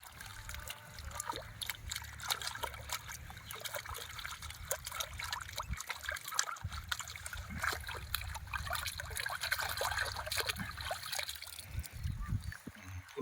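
Lotus root is rinsed in water with continuous splashing and trickling, a busy moderately close wash under faint background voices and outdoor noise.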